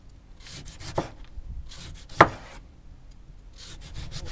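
A knife chops in short bursts against a board, a few quick strokes with pauses, including one sharper knock near the middle.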